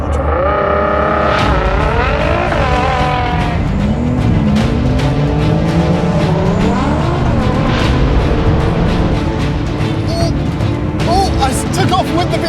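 A 2022 BMW M4 xDrive, an Audi RS5 and a Nissan GT-R drag racing, engines roaring loudly and climbing through gear changes in rising sweeps, heard up close with excited talk over the noise.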